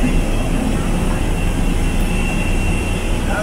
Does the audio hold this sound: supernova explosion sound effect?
no